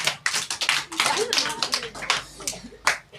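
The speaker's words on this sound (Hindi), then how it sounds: "चलो ताली मारते हैं" A group claps hands in a live class, a quick run of close, sharp claps with uneven rhythm that lasts a few seconds, mixed with some talking.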